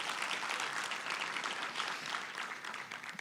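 A conference audience applauds steadily, a dense wash of many hands clapping at even volume throughout, heard from within the hall.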